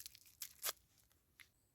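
Plastic and wax wrapping being peeled off a Babybel cheese outdoors, heard as a few short, close, crisp crinkling tears with quiet gaps between them.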